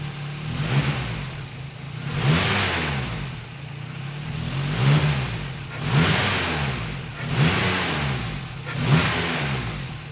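A turbocharged Nissan KA24DE engine, a budget turbo install, is revved repeatedly from idle. It rises and falls in about five evenly spaced blips, loud and close.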